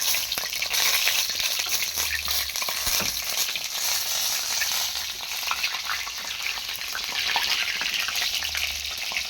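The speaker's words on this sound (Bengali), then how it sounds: "এই যে দেখতে পাচ্ছ কীরকমভাবে ভেজে নিচ্ছি, পুরো ভালোভাবে ভাজতে হবে।" Chicken momos deep-frying in oil: a dense, steady bubbling sizzle, close and loud, holding evenly throughout with small crackles and no voices.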